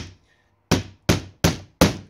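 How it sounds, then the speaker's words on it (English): Hammer blows driving a nail into the wooden frame of a homemade plant brace: four sharp, loud, close strikes landing in a steady rhythm, each with a short ringing decay, after a moment of near silence, with no talking. "use the old hammer and nail rather than a nail gun"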